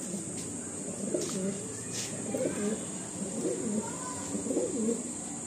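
Several Chini Kaldom pigeons coo in soft, repeated rounded calls inside a loft, fairly close, with a steady hiss and faint background noise throughout.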